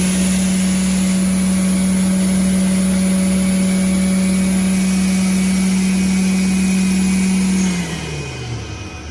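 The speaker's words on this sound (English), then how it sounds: "Let's show you safe flight, which is when we start the machine up. We start the main blade up." Main blade of a Martin T70 panel saw, an inverter-driven machine, running up with a loud steady tonal hum and whine that holds level and then slides down in pitch near the end, with no talk.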